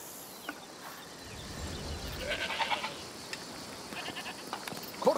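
A goat bleating in the video game A Plague Tale: Requiem, a few short, moderately faint bleats over ambient outdoor background noise.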